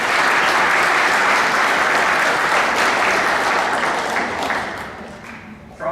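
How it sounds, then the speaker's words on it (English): A school gym crowd at a fall sports assembly breaks into loud, dense applause that stays strong for several seconds, then tapers off before a brief final burst of noise. "Give them a round of applause."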